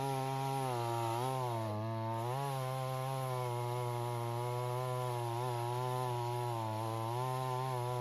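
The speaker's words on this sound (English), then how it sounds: "trying to cut that massive truck-sized trunk into dice-sized pieces with his 20-inch dull chainsaw" A 20-inch dull chainsaw works at a massive trunk outdoors, its engine droning steadily with rising and falling pitch as the cut bogs and recovers, continuous and moderately distant throughout.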